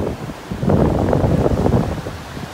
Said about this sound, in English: The wind sure is kicking that gulf up.